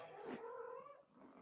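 Kittens meow in a short, high, wavering cry that rises and trails off, close and fairly loud over a faint room background.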